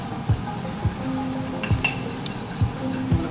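A spoon stirs a cornstarch and water slurry in a bowl, giving a few distinct clinks against the dish at an uneven rhythm over a quiet kitchen background, close and with no talk.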